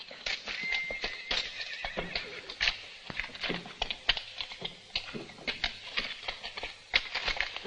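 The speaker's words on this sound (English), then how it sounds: "Get the horses fed and watered." Horses whinny repeatedly over a steady patter of clopping hooves near a coach, with the neighs and hoof strikes close, lively and uneven in rhythm throughout.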